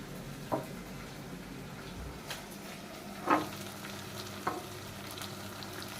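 Minced meat fries quietly in a pan, a soft continuous sizzle marked by a few sharp clicks and knocks from stirring.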